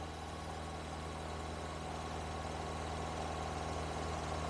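A car engine idles steadily while vacuum hoses are pinched off one by one, a constant low hum with no audible change in pitch or rhythm throughout.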